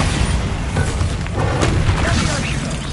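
A Bombarda blasting spell explosion in Hogwarts Legacy, heard as dense booming bursts and crackling debris that fill the short stretch loudly and continuously, with a voice partly mixed in.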